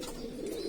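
Pigeons give a short, low, continuous coo from close by, heard alone and fairly clear.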